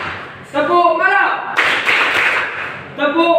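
A school class claps hands together in a call-and-response rhythm game, bursts of clapping alternating with a teacher's voice calling the cues close by.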